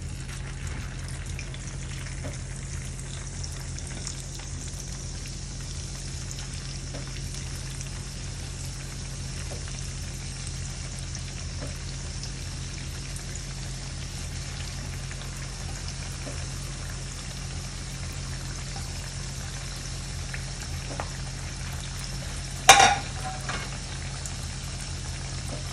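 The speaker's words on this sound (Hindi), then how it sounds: "फ्राई पैन के अंदर मैंने ऑयल गर्म किया हुआ है, इनको अब फ्राई करते हैं।" Hash browns fry in hot oil in a frying pan over medium heat, giving a steady, even sizzle throughout with one brief sharp clink near the end.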